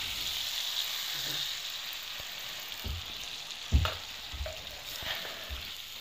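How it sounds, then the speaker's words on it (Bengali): Spice masala fries in oil with tomato paste for a Bengali-style egg curry, giving a soft continuous sizzle broken by a few stirring scrapes and knocks of the spoon against the pan. "টমেটো বাটা দেওয়ার পরে ভালো করে এটা টমেটো বাটার সাথে মশলাটাকে ভালো করে কষিয়ে নেব"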